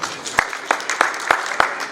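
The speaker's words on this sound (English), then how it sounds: "A round of applause, please." Clapping in a studio setting, a few sharp, evenly spaced claps in a steady rhythm, close and fairly loud with a faint murmur between them.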